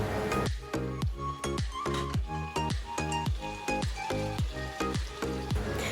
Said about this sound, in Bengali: তো এভাবে একটু নাড়াচাড়া করে আমরা ভেজে রাখা পনিরটাকে এক এক করে দিয়ে দেব।